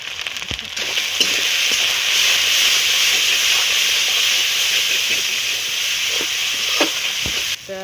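Spice paste of cumin, pepper, salt and turmeric fries loudly in a pan for a crab dish with bottle gourd greens, a dense, steady close sizzle with a few faint knocks of stirring.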